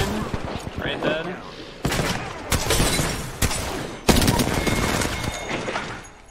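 Bursts of rapid enemy gunfire in the video game Apex Legends, several loud sharp volleys with thumping impacts, mixed with people talking over the shooting.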